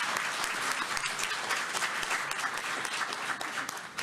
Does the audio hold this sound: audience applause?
yes